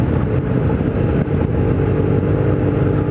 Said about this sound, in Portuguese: Nossa, tá esquentando a moto